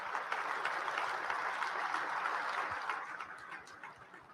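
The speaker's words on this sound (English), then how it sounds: "Give them a round of applause." Faint, somewhat distant applause from attendees at an agricultural industry roundtable, a soft, even patter of many hands that tapers off toward the end.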